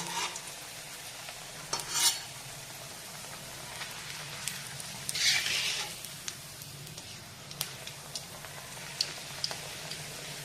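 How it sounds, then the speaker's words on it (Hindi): Peel crumbs are stirred and roasted in oil over low-medium heat, giving a soft steady sizzle with scattered scraping clicks from the spoon and a brief louder hiss midway; no voices. "तेल को बहुत तेज नहीं करेंगे, स्लो टू मीडियम ही रखेंगे, और ऐसे इनको हिला हिला करके सेक लेंगे।"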